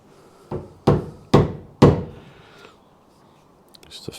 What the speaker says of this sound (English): Now we're going to use the chisel to make those a bit stronger.